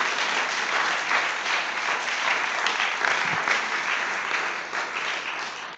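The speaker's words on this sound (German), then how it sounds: "ein Applaus wäre jetzt ganz nett von euch" Sustained audience applause at a film screening and panel discussion on fair rents in Berlin, a dense wash of clapping hands that holds steady and fades slightly at the end.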